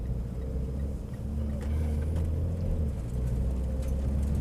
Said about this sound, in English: So now I'm just taking it easy in the car,